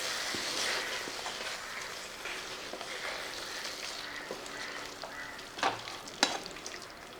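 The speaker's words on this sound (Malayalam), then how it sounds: "ഒന്ന് ഇളക്കി കൊടുക്കുക." Fish frying in a hot, spicy pan while being stirred: a steady, close hiss of sizzling oil throughout, with a couple of brief utensil scrapes near the end.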